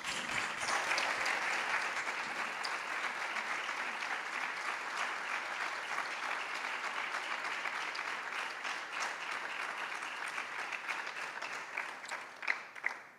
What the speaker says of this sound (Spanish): vaya ese fortísimo aplauso para esos cuatro